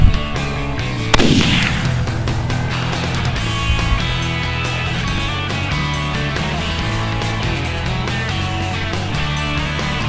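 A single loud rifle shot cracks out during a coyote hunt, followed by a long echoing rumble and steady background noise with no talking.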